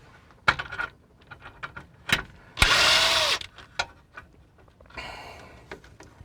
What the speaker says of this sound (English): I don't really need a 1/2 inch impact for that, but it was convenient